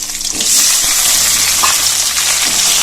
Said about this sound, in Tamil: ஒரு 10 சின்ன வெங்காயம் கொஞ்சம் வதங்கட்டும். லைட்டா வதங்கினாலே போதும்.